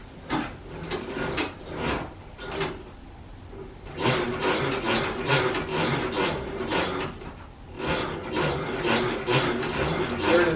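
Wooden treadle-powered cotton gin for Sea Island cotton, running with rhythmic rubbing and rasping bursts, close and moderately loud, broken by a short pause near the middle.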